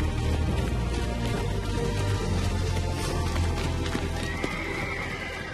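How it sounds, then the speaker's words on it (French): A stallion drives his herd of horses away from a rival, with loud, continuous hoofbeats clattering close by, repeated neighing and whinnying, and the dense jostle of many animals on the move throughout. "Cet étalon entraîne sa famille à l'écart pour l'éloigner d'un rival."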